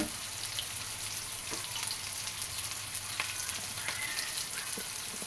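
Onions frying in a pan with a little salt and curry leaves, giving a steady, close, even sizzle with faint crackles throughout and no talking.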